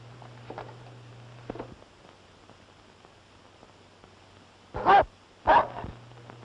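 Two sharp dog barks from a German Shepherd-type movie dog in a 1939 Western crime drama, sounding close together near the end after a quiet stretch with faint low hum and a few soft knocks.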